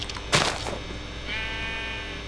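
A sheep bleats in a video game, a drawn-out bleat rising after a sudden thump, heard over steady game background noise with no talk.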